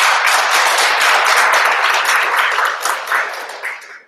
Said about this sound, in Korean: 다시 한번 제1번 후보자께 한번 박수 한번 부탁드리겠습니다.